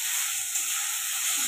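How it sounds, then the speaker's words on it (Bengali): Leafy greens frying in a pan give off a steady, soft sizzling hiss that runs unbroken and fairly quiet for the short stretch. "শাকটা ভাজা হয়ে গেছে, এবার নামিয়ে নেব।"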